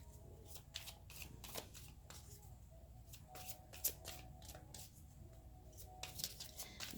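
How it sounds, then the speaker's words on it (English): A deck of oracle cards is shuffled by hand in a string of quick, soft riffles and flicks, faint and close against a low background hum, with no speech. "we're going to pull a card from this deck"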